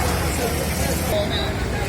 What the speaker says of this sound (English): This traffic is coming down from Parque Berrío, from the Parque Berrío Metro Station and from Avenida Oriental.